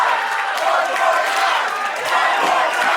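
Wrestling crowd at a Southern Honor Wrestling event roaring and yelling after a choke slam, a loud, continuous wall of cheers and shouts from a packed audience with no break.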